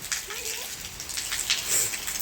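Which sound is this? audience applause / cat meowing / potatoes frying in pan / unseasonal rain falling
unseasonal rain falling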